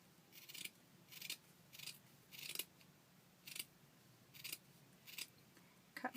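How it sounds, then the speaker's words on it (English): Paper scissors cut through burlap in crisp, separate snips, about eight of them at a steady, unhurried pace, close and fairly quiet. "I'm not even sure if I should be using my paper scissors"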